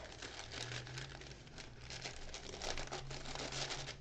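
Paper crinkles and tears softly as the folded part of a paper lunch sack is carefully peeled away, a scattered run of quiet rustles and small rips with no talking.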